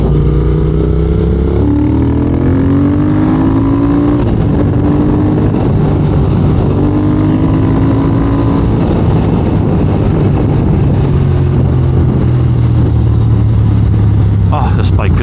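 A motorcycle is ridden along a road, its engine rising in pitch through several gear pulls over steady wind rush, loud and close, with someone talking over it.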